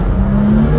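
Loud, continuous low exhaust drone from a straight-piped BMW M2 with a Stage 1 Bootmod3 tune, a steady rumble with slight crackle and no pause across the short stretch.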